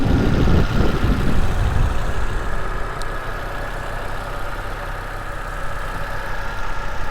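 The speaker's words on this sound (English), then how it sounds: "So here we have our turbocharged 5-cylinder." A 2011 Volvo C30 T5 R-Design turbocharged five-cylinder engine idling steadily with a low, even rumble, slightly louder at the start, then settling into a constant hum.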